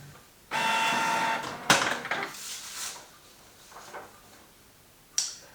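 A Canon G-series inkjet printer prints a sheet with a steady whirring feed, followed by sharp mechanical clunks and rattles, then quieter shuffling and a final click.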